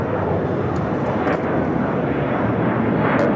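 A Boeing 747 airliner at Los Angeles airport, a broad, steady jet engine roar holding loud and constant from start to finish.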